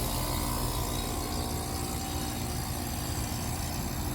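A Trane heat pump unit runs steadily after switching on, a loud, constant broadband mechanical roar and hum with no breaks, close by.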